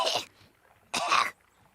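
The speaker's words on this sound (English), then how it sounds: "Cough, please." A cartoon character gives two short, sharp coughs during a doctor's exam, clearly separated by a brief pause.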